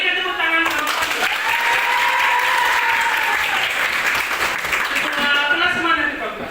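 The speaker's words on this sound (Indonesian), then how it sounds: "Berikan tepuk tangan sama Pastor." Steady applause from a classroom full of people, sustained and fairly loud throughout, tapering slightly at the end.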